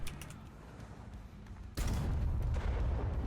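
A T-34 (1942) tank cannon fires in War Thunder, a sudden loud boom midway that cuts in over a steady engine rumble and clanking, with the blast's roar lingering to the end.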